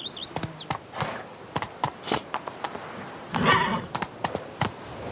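Roach, a horse in The Witcher 3: Blood and Wine, gallops with a steady run of hoof clip-clops and a brief whinny near the start, close and clear, joined by a louder rush of movement midway.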